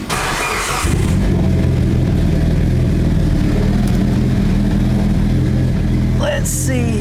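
A Mitsubishi Evo's engine cranks briefly, catches and settles into a steady, loud idle close by, with a faint sharp tone near the end.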